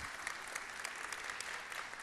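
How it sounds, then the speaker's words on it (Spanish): An audience gives a brief round of applause, dense clapping at a fairly soft, even level throughout, with no voices heard. "Se merece un gran aplauso."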